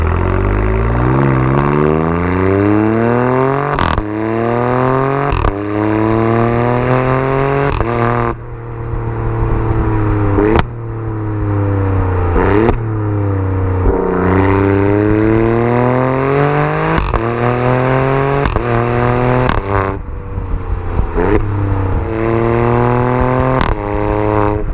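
A 2018 Alfa Romeo Stelvio Quadrifoglio SUV driven hard on twisty turns, its engine loud and close, repeatedly revving up through rising pitch then dropping on shifts and lifts, with no talk.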